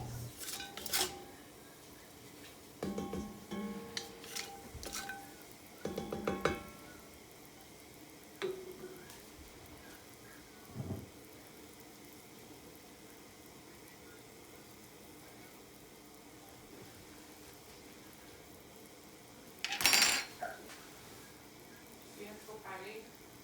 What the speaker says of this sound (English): Sauteing the spices should only take a minute or two.